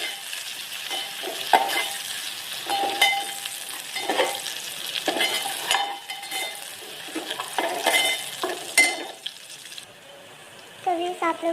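Onions with garlic ginger paste fry in a pan while being stirred, giving repeated scraping strokes over a bright sizzle, with a voice talking at times.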